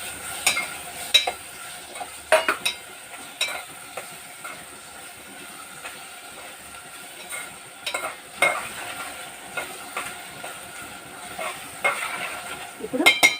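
Cleaned prawns sizzle and fry in a pan, with a steady soft hiss broken by intermittent scraping stirs of a utensil, close by and without talk.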